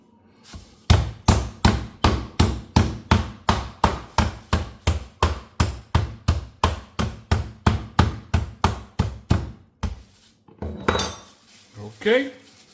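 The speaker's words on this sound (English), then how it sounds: "like that, and we're gonna hammer it" Ribeye steak sealed in a bag being hammered to tenderize it, around two dozen loud, evenly paced thuds with a metallic clank, then scraping and handling noises at the end.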